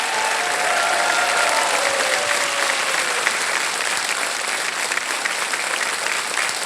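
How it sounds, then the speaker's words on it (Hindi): On the Kaun Banega Crorepati television quiz show, a studio audience claps loudly and steadily for several seconds, a dense wash of applause with no talk over it. "मैं चाहता हूं एक बार फिर तालियों के साथ इनका स्वागत करें।"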